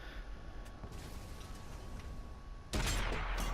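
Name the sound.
tank gun firing, World of Tanks video game, T29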